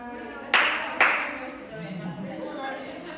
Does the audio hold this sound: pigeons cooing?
no